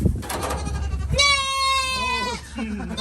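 Goats on a portable goat farm, a loud, close, drawn-out bleat rising and wavering for about a second, followed by a softer lower bleat, after a person talks briefly at the start.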